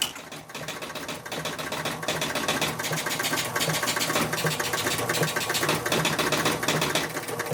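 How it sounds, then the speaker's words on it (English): Relay bank of a Spirit of 76 pinball machine clattering through its startup sequence, a dense rapid stream of mechanical clicks and buzzing over a steady hum, sustained and fairly close. "We'll watch the relay bank as it runs through startup sequence."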